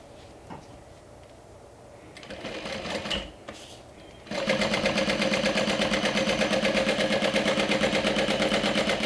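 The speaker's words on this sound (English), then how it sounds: "So now I'm taking it and sewing right around that" A sewing machine starts with a few quiet clicks and handling noises, then runs steadily in a fast, even mechanical whir while stitching around a fabric panel. It is loud and close, with no talking.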